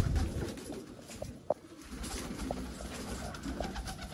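Sialkoti pigeons coo softly and steadily against a busy outdoor background, with occasional faint clicks and a brief sharp knock.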